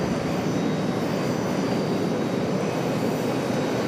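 Boeing 737-800 airliner waiting on the ground at Charlotte airport, a steady, loud, broadband engine roar and rumble that holds constant from start to end with no pauses.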